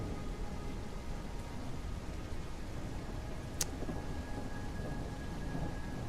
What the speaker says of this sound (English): Oh, what a lovely thunderous day.